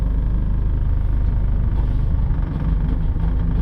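A race car engine rumbles loudly and steadily at close range as the car begins to roll during a BaTCC 2024 touring car round, a deep continuous drone without talk.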